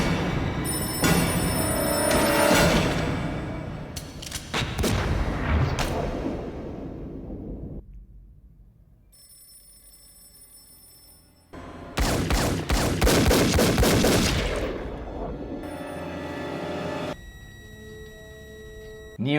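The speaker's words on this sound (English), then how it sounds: "Neo gets shot and seemingly killed by Agent Smith" Gunfire from The Matrix scene where Agent Smith shoots Neo, loud bursts of rapid shots in two clusters separated by a quieter stretch with ringing tonal movie score, no speech.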